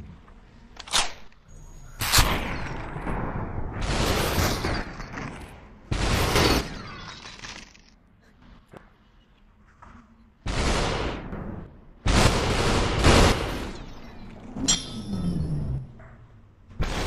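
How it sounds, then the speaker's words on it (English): Gunshots in the video game Superhot: several loud, sharp bursts come at irregular intervals, some with a glassy shattering tail and gaps of quiet between them, with no talking. "Shots."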